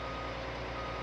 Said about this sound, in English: Backup beeper.